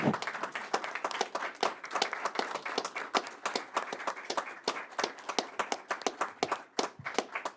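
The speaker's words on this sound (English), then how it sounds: "let's please stand and give him a warm round of applause" Audience applause at a county commission meeting honors a retiring commissioner, a room of clapping hands with sharp, dense claps running steadily for several seconds at moderate distance, with no talk over it.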